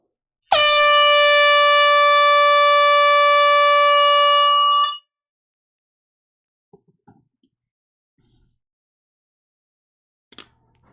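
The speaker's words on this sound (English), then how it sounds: "Air horn warning." At a live vinyl record auction, an air horn lets out one loud, sustained blast of about four seconds, followed by quiet with a few faint knocks and clicks.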